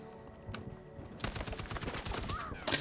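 M60 machine gun fire in the video game Battlefield 6: a rapid, rhythmic string of shots at moderate volume after a couple of isolated cracks, ending with a louder hit.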